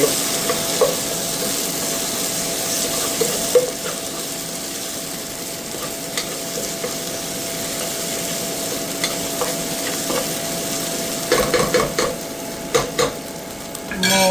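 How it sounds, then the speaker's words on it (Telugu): Onions frying in a pan, a steady bright sizzle held throughout, with a few spoon scrapes and stirring clatters near the end, close and without talk. "ఆనియన్స్ చాలా ఫ్రై అయిపోతున్నాయి"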